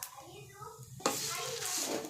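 Poppy seeds hit hot oil in a pan with a sudden burst of sizzling about halfway through, and the crackling stays steady and close until the end, preceded by quieter stirring sounds.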